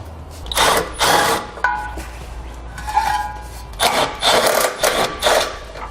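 A power tool works bolts loose on the passenger side of a 2018 Dodge Grand Caravan during a trailer hitch installation, sounding as several loud, close whirring bursts separated by short pauses.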